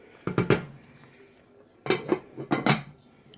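Frozen peas go into a pot of orzo and broth amid clattering cookware, two clusters of sharp metallic clinks and scrapes separated by a quiet pause, close and fairly loud.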